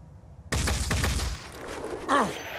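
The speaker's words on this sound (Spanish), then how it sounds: "Vamos a intentar disparar." Gunfire in the tactical game Phoenix Point, a sudden close rapid burst of shots erupting loudly after a quiet moment, then a whooshing impact as the volley tails off.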